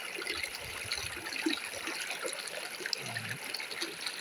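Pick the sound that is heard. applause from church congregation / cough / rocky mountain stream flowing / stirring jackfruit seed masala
rocky mountain stream flowing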